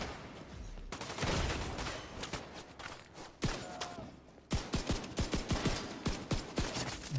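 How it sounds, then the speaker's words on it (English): Gunfire from an enemy shooting incendiary fire rounds in The Division 2, a dense stream of loud sharp cracks and bursts, with a lull midway before a rapid string of close shots resumes. "Oh my god, this guy's fire bullets here."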